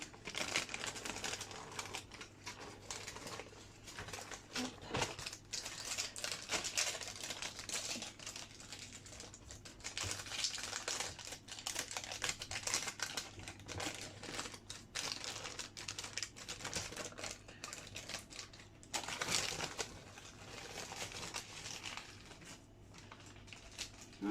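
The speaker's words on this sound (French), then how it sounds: "vous décollez délicatement votre papier cuisson" Baking paper is slowly peeled off a chocolate Yule log sponge, giving a long run of soft crinkling and crackling with small ticks and rustles, steady and close, with no talking.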